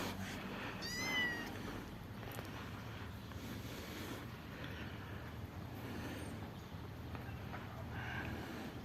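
Rescued kittens give a short burst of high, rising meows near the start, then stay quiet over a steady wind-like outdoor hiss.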